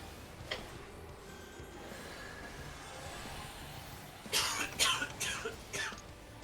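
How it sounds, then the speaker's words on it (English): A burst of several coughs in a row near the end, fairly close and louder than the quiet, steady background hum before it, with no talking over them. "He coughed"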